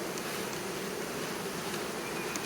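A swarm of honeybees hums at a crowded wooden beehive, a dense, unbroken buzzing that stays close and even throughout, with no voices.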